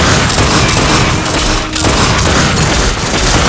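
Constant, loud gunfire in the video game The Darkness II, with rapid overlapping shots and booms forming a dense barrage and barely easing for the whole stretch.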